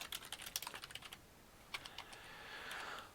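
Fingers type on a computer keyboard in quick, uneven bursts of close, light clicks, then slow to a few scattered taps and stop, with no voices.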